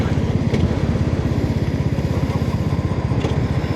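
A motorcycle engine rumbles close by as the rider slows toward a stop in traffic, a steady low pulsing throb that runs continuously with no voices over it.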